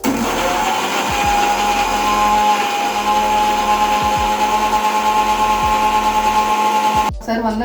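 A Preethi Zodiac mixer grinder blends papaya into juice, its motor giving a steady whirring hum throughout with low thumps of fruit hitting the blade, then cutting off abruptly near the end.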